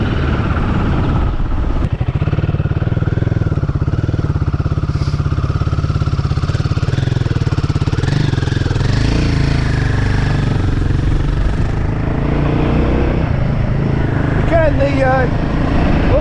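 Royal Enfield 450 Guerrilla motorcycle engine running steadily while riding on rough roads, a loud continuous low drone with wind rush throughout and brief clattery bursts near the end, under spoken commentary.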